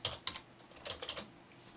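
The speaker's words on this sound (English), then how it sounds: "in the search box just to the right here, left click once and type Windows Tweaker" A handful of quick, light keystrokes on a computer keyboard, tapped in short irregular bursts, close and faint against a quiet room with a faint steady whine.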